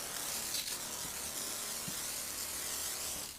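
A Petra HD4000 backpack sprayer pushes salt brine through its nozzle, a continuous close hissing spray at full pressure with small knocks underneath.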